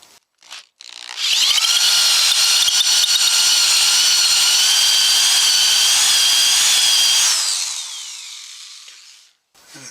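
A power drill bores a jack hole into a wooden guitar body, running in one loud, steady whine for about six seconds before spinning down, with brief handling noises before and after.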